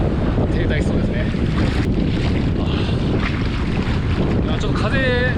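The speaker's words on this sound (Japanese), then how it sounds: "ちょっと風と波強め、八重山にしてはね、波強めなんですけど" Strong wind buffets the microphone while waves roar and break at Kondoi Beach in Yaeyama the day before a powerful typhoon, a loud continuous rushing that fills the whole clip.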